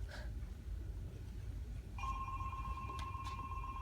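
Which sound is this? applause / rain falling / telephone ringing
telephone ringing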